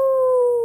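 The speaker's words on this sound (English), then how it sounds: "Her father raises his head and begins to howl." A single sustained wolf howl, a clear steady tone held for under a second with a slight downward glide, close and loud with nothing else around it.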